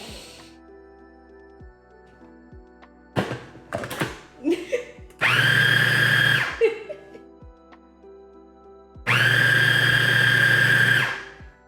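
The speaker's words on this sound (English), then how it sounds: "if the dough gathers into a cohesive mass around the blade of the food processor, you've over-processed it" A food processor mixes dough in a home kitchen during a Valentine's Day baking session, two loud whirring bursts of a few seconds each, separated by clattering and handling noises.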